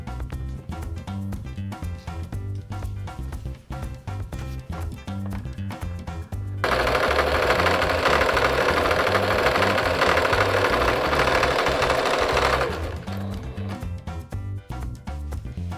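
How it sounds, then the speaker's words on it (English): A sewing machine edge stitches ribbon onto the hem of a pillowcase apron, its steady rapid mechanical chatter running throughout, with a louder whirring stretch in the middle before the even rhythm returns. "We're going to edge stitch across the top of the ribbon."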